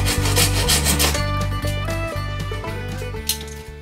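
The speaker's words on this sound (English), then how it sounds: "But the beam is stopped by a tight corner on the holder. I trim off a small part of the edge." Wooden edge of a kayak sail beam holder being trimmed by hand, a steady close rasping rub with regular strokes over background music.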